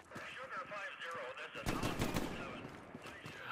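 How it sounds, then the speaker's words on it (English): Bursts of gunfire from the World War II video game Hell Let Loose, breaking out loudly midway and continuing as broadband crackle, with voices talking over the earlier part. "I hear gunfire."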